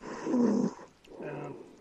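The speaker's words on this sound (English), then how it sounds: "I heard a snore." Snoring, with two drawn-out rasping breaths separated by a short pause, the first louder and rougher and the second softer, close up with no talking.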